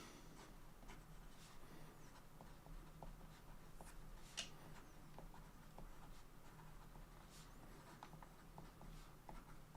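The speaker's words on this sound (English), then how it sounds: "here we go with the rest of the writing sample." A broad, wet-writing fountain pen nib scratches across paper in soft, close strokes with small taps and pauses, faint and steady throughout with no talking.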